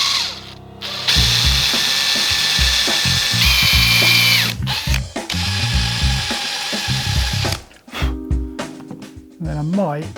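Power drill boring a mortise into wood for a Shaker table stub mortise and tenon joint, loud whirring bursts that start and stop repeatedly, with short pauses and brief talk between runs.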